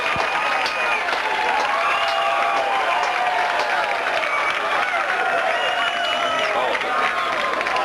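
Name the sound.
baseball crowd cheering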